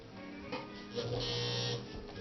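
A vintage Kingston Precision Synchro-Matic sewing machine stitches with a steady mechanical whirr and fast, rhythmic needle chatter, close up, briefly rising in speed in the middle.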